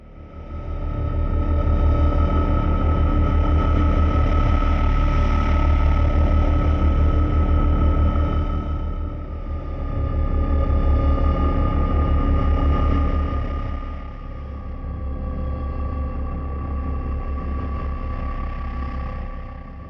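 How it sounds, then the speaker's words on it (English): Dark sustained sound-design drones from a brass and cinematic sample library hum with a steady low rumble and layered tones, swelling loud for about twenty seconds with slight dips in level and no voices. "We've got drones, because every sound design toolkit needs drones."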